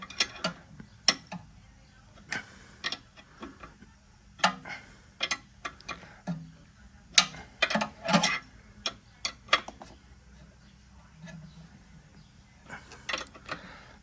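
A ratchet tightens the torque converter bolts on the engine of a Mk2 Ford Escort burnout car, with sharp metallic clicks coming in quick bursts and short pauses between them.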